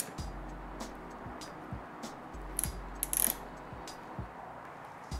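A crank tool ratchets in repeated clicking strokes as it is threaded in to pull the spindle through the cranks of a fixed gear bike, close and fairly quiet with a few brighter metallic clinks.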